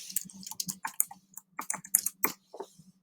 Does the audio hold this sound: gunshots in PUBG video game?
no